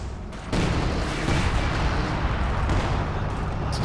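A grenade goes off in Company of Heroes 2 with a sudden loud blast, followed by sustained rumbling battle noise and distant gunfire.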